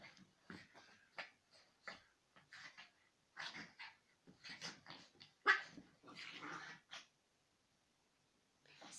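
A dog barks and growls in short, irregular bursts, fairly faint and indoors, with brief pauses between outbursts and a longer silence near the end.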